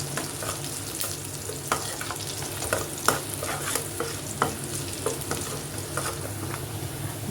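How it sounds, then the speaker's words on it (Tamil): Ginger and garlic sizzle and fry in a pan for homemade pasta while being stirred, giving steady crackling with repeated scraping strokes close by and no speech. "நல்லா இந்த இஞ்சி பூண்டு வந்து ஃப்ரை ஆகணும்."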